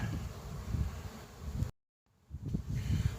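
Steady low insect buzzing from many honeybees close by at an open spring hive, with a brief drop to silence partway through before the droning resumes.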